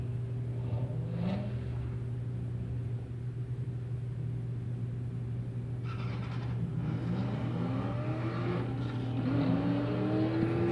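A 1982 Mustang and a 2017 Chevy SS race at a drag strip, engines droning steadily before rising revs and louder roaring build toward the end, heard from a moderate distance.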